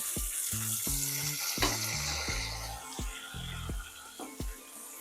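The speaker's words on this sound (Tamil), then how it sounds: "தக்காளி கட் பண்ணி வச்சுருக்கோம்ல அதை சேர்த்துருவோம்" Chopped tomatoes sizzle in a pan for dal kofta curry, a steady hiss running beneath a series of short, low, tonal pulses.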